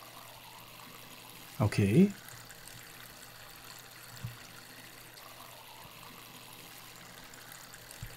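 Water poured from a watering can onto plants in Weed Farmer Simulator, a short half-second splash that stands out from quiet background ambience, with a voice speaking briefly nearby.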